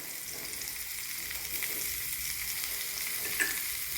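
Curry leaves and crushed ginger fry in a pan for a shellfish fry dish, giving a soft, steady sizzle and crackle at low level with no talk.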